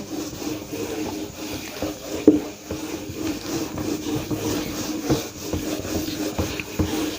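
Board duster or eraser rubbing chalk writing off a classroom blackboard during a maths lesson, a steady scraping swish that goes on throughout with a sharper knock near the middle, heard alone without talk.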